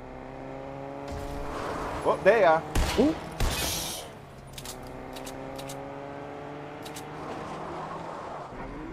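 Car engines rev and whine with a brief tire squeal as video game cars do donuts nearby, while people talk and exclaim over the steady motor hum.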